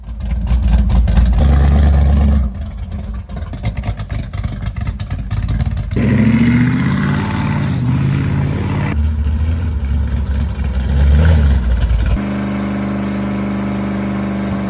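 A 1976 Dodge Dart Sport V8 runs loud and close, with a lumpy idle broken by several hard revs that rise and fall before it settles into a steady idle near the end.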